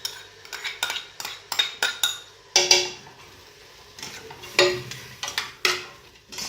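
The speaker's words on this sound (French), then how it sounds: "On mélange un petit peu، نحركو شويه" A spoon stirs chopped onion and chickpeas in a pot, with a series of close, sharp metallic scrapes and clinks in uneven bursts, some louder knocks standing out.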